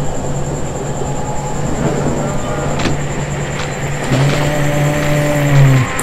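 Steady rumble of a train ride in the survival horror game Silent Hill 3, a continuous low drone with a high whine and brief squealing metallic tones near the end, no talking.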